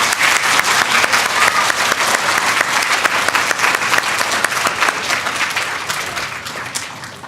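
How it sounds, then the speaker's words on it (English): Children at a school Bulldog Pride awards assembly clap together in a loud, steady burst of applause that fills the room, holding strong before tapering slightly toward the end. "Boys and girls, let's give a round of applause to our third and fourth grade friends."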